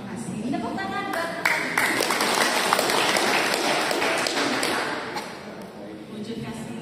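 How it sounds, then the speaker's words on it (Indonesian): A church congregation at a parish sharing session bursts into a brief round of applause, a wash of clapping that swells quickly and then fades, with a voice speaking over it. "Tepuk tangan buat"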